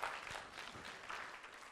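An audience of professionals who help people for a living claps together, a faint, even patter of applause heard from a distance.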